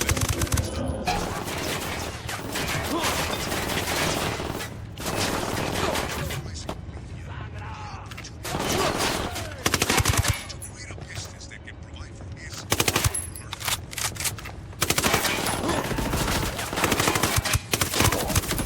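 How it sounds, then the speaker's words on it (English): Video game firefight in Ghost Recon, set in a Bolivian drug-lab battle: sustained bursts of automatic gunfire and scattered single shots, loud and close, arriving in waves with short lulls between volleys. "Taking fire from inside the lab."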